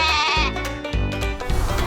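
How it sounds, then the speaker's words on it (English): Sheep bleating loudly and close, a couple of wavering, nasal calls in quick succession with no talking. "This is a sheep."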